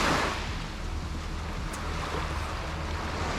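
Waves washing onto Blebak beach in Jepara, a steady broadband surf roar with wind buffeting the microphone, continuous and fairly close, no voices.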